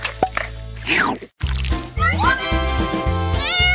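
A small kitten meows several times in high, thin cries, close by, with a low steady hum and brief dripping sounds underneath.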